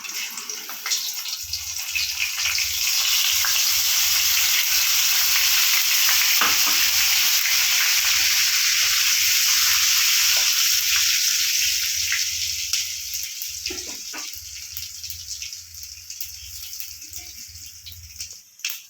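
Dried red chillies and whole cumin hit hot oil already used for frying fish, giving a loud steady hissing sizzle that swells and then gradually fades, with small crackles throughout and no voices.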